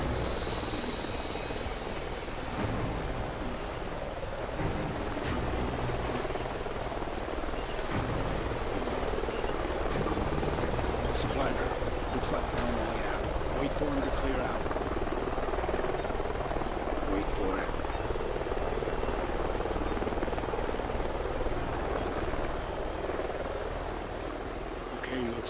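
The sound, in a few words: helicopter flying, from a video game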